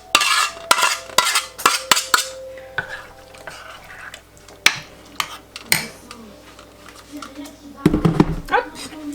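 Chard gratin with emmental is stirred in a dish, giving a run of sharp utensil clacks and scrapes against the dish, some close and loud, between pauses with a faint background hiss.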